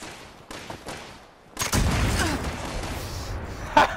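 Gunfire in the post-apocalyptic shooter Fallout 76 during player-versus-player combat, a burst of sustained shooting rising after quieter opening moments, with a sharp loud crack near the end.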